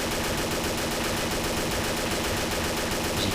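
XM8 and G36 rifles fire in a video game, a loud, unbroken stream of rapid automatic shots with the aim held still.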